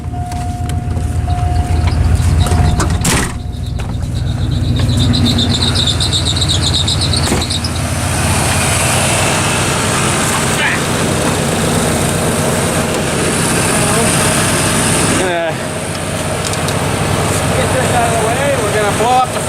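A car engine, started after long winter storage, runs steadily at idle with a continuous low rumble and some squealing, close and loud, with a few brief clunks and short pauses.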